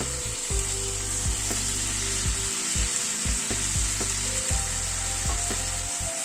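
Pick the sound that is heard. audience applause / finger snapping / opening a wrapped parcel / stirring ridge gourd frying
stirring ridge gourd frying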